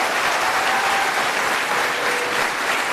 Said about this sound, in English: round of applause for Erica Tracy